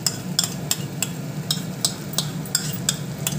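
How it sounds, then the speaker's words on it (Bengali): Beaten sour curd being stirred into fried masala in a pan, with a spoon clinking against the pan in a steady rhythm about three times a second over a soft sizzle, close and moderately loud. "মশলাটা ভাজা হয়ে গেছে, এবার দিয়ে দেবো টক দই, ফেটানো টক দই"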